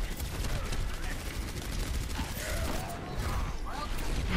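Turrets in Overwatch fire continuously in a steady, loud mechanical rattle of rapid shots, with clanking game effects layered over it and a voice talking in the background.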